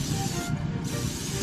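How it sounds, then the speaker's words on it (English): Olive oil cooking spray hisses from a can onto fish fillets, a short, close, steady spray with a brief pause in the middle, with no talk. "I'm going to spray our fish with this olive oil cooking spray"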